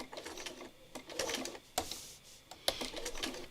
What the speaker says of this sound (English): I'm going to just stitch over the same stitching again